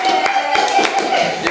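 A group does a Pramuka scout clap, several sharp, irregular hand claps with a few people talking faintly alongside.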